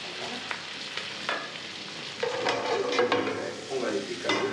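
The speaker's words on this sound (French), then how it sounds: "Donc une petite casserole. Toujours un petit peu de beurre clarifié, mais pas trop." Clarified butter heating in a small saucepan, with a steady, moderately loud sizzle and frying crackle throughout, plus a few scraping, stirring clinks from a utensil against the pan.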